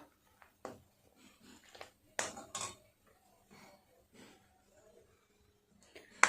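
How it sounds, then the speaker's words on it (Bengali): A spoon scrapes and knocks against a wok while milk is stirred continuously for mango phirni, a scattered series of metallic clinks and taps at close range, with faint quiet stretches between them. "দুধটা কিন্তু অনবরত নাড়তে হবে নাহলে কড়াইয়ের নিচে লেগে যাবে"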